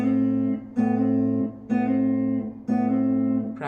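Plucked guitar notes ring out in four short phrases, each starting with a pick attack followed by a quick hammered-on note, clear and close with no talking.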